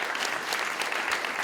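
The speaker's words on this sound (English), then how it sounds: "Big round of applause for Hannah" Steady crowd applause at an award ceremony, a continuous wash of many hands clapping at moderate volume throughout.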